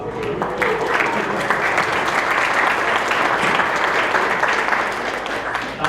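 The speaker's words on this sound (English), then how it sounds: "I think we can clap for that." An audience at a visualization speaker series event claps loudly and steadily for several seconds, a dense close wash of applause with no voices heard.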